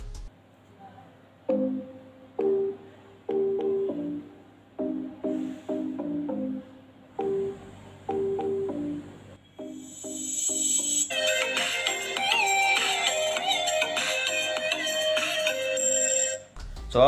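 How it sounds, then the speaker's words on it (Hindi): A song added to a mobile phone plays back through its small speaker, a plinky melodic tune in short phrases that swells into fuller, busier music near the end. "वही म्यूजिक आपको यहाँ पर मैं मोबाइल में सुना के दिखा देता हूँ जो हमने ऐड किया है"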